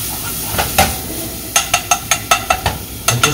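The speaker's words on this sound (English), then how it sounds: "You want to add a little salt whenever you're sauteing garlic or onion" Garlic and onion sauteing in a hot pan, with a steady soft sizzle under a string of sharp, evenly spaced metallic taps and scrapes from a utensil against the pan, close and without talk.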